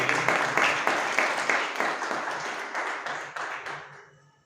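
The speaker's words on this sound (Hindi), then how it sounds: "आप ताली जरूर बजाइए।" An audience at an academic lecture claps together in a brief burst of applause, fairly close and even at first, then thinning out and fading away within a few seconds.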